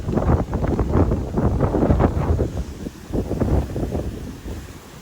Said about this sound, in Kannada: ಕೇಳ್ಸಾತಿಲ್ಲ ಗಾಳಿ ಸೌಂಡಿಗೆ